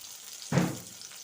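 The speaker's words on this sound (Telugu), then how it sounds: "ధనియాలు కూడా మంచిగా వేగాలండి." Coriander seeds hit a pan of oil with fried green chillies for an okra chutney, a sudden sharp burst of sizzling that fades into a softer crackle after a quiet start.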